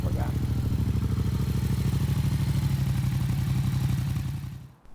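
A Yamaha MT07 motorcycle engine runs with a steady, throbbing mid-pitched idle, loud and close, then cuts off abruptly at the end.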